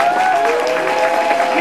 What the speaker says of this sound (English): Give all the young people a nice round of applause,